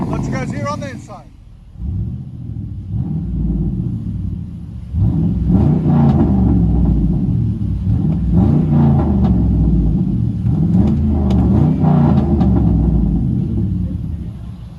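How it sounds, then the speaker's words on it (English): Inside the cabin of a 2006 Chevy Tahoe, its 5.3L V8 with true dual straight pipes rumbles deeply and revs repeatedly in rising, falling swells, loud and close, with voices present. "Let you guys hear on the inside."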